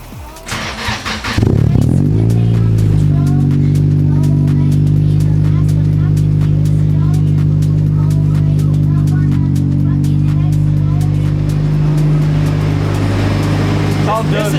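A car engine that had sat unused for two months cranks briefly and catches on a cold start, then settles into a loud, steady idle with a strong low hum; voices talk over it near the start.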